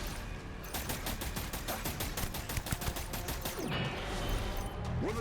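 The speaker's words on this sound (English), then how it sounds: "Someone else is shooting me." Enemy gunfire in Death Stranding rattles out as a rapid, steady burst of automatic shots lasting several seconds, loud and close, followed by scattered impacts and softer mechanical sounds.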